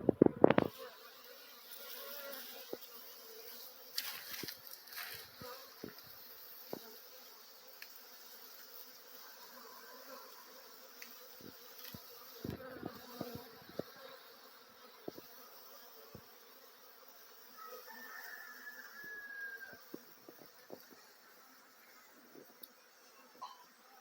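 Bees buzz faintly around a swarm trap and top bar hive in an outdoor Jamaican apiary, a thin steady hum with occasional closer passes, low in level and without talk.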